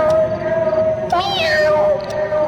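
A single drawn-out cat meow rises and falls over a steady background drone in a cartoon scene, with no speech.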